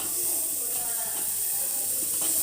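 Cauliflower frying in a pan of hot oil seasoned with turmeric gives a constant, loud hiss and sizzle with faint crackles and no clear talking.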